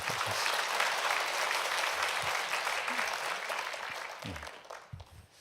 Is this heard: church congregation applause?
yes